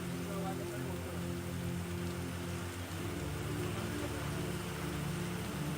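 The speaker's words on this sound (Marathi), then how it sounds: "ढगफुटी सदृश पावसानं शेतांना तलावाचं रूप प्राप्त झालंय" Steady, dense cloudburst-like rain hisses without pause over farm fields in Maharashtra, a loud constant wash with a low rumble beneath it.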